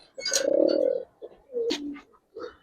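A male pigeon in a loft gives a few distinct, close throaty coos, one long warbling call followed by shorter bursts separated by brief pauses.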